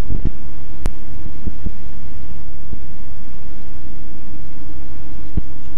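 Light aircraft engine throttled back on final approach, a loud low steady drone and hum heard from inside the cockpit, with a few brief clicks and thumps over it.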